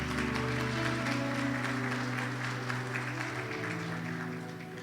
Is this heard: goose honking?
no